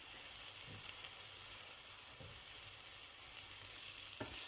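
Chicken curry with ginger and garlic paste is stirred in a pan over lowered heat, producing a constant soft frying hiss with a few faint, dull stirring scrapes, quiet and without talk.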